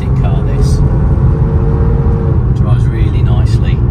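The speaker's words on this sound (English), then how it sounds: "Just giving it a little run up the road just to see how it drives." A 1989 Mercedes-Benz 300 CE coupe with a 3.0 engine drives along a road, giving a steady, loud low engine and road rumble with tyre noise throughout, close and continuous.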